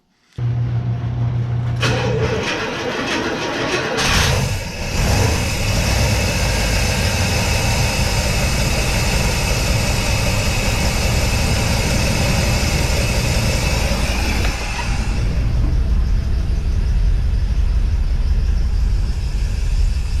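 An International Scout engine fitted with FiTech EFI cranks and catches after a cold start, then settles into a steady, loud, close rumbling idle with no talk.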